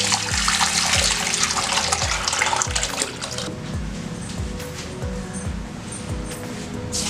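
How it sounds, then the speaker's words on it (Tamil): Mixed rasam is poured into a pan in a continuous splashing, gurgling stream that runs loud for a few seconds and then settles to a softer trickle, close by with no talking. "நம்ம ஏற்கனவே கலக்கி வச்சுருக்க ரசம் இருக்குது இல்லைங்களா, இதை வந்து இதில் ஊற்றிடலாம்."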